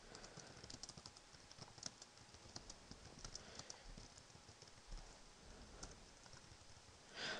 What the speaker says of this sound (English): Just typing in some quick stuff here.